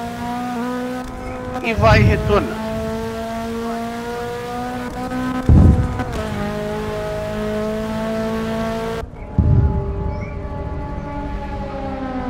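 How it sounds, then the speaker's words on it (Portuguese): A race car in Forza Motorsport 6 during a WTCC virtual race, its engine droning in a sustained high whine with three loud bursts of tire squeal and revving; a commentator speaks briefly over it. "estamos escutando um barulho de motor"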